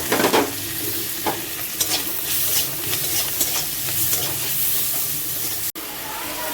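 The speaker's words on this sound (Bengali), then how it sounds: "ভালো করে মশলাটা কষে নেব।" Spices fry with fish and onion in a hot pan, giving a steady close sizzle and hiss broken by occasional stirring scrapes, with a brief sharp knock near the end and no speech.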